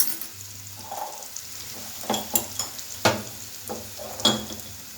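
Red chili powder, turmeric, coriander, cumin and garam masala frying in a pan while being stirred, a soft sizzle broken by several scraping spoon strokes and light knocks against the metal.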